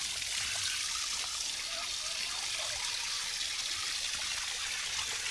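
Water pours and splashes continuously while clay pots are washed, a steady broadband gush heard close and fairly loud without pause.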